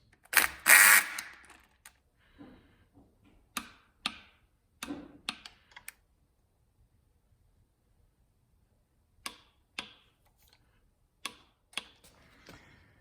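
A 3/8-inch 12-point socket on a ratchet runs bolts down and torques them to 30 foot-pounds during a Slant Six engine rebuild, giving a loud burst of ratcheting followed by sparse, isolated clicks with quiet gaps between them.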